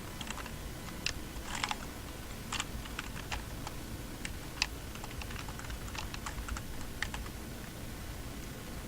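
Typing on a computer keyboard while writing a Twitter bio, a steady run of quick, light key clicks with small bursts and pauses, close by over faint room noise, with no talking.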